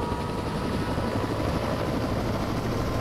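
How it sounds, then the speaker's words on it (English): A helicopter in a military video game makes a dense, steady rotor thrum close by, with a continuous rough roar that holds constant throughout. "Watch any choppers taking off."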